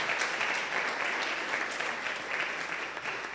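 An audience at a medical conference on trauma resuscitation claps steadily and fairly loudly throughout, a dense and even ovation from a room full of people.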